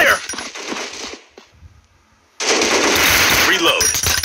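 Rapid automatic gunfire from a counter-terrorist combat shooter game, loud dense bursts before and after a brief quieter gap, with faint voices in between.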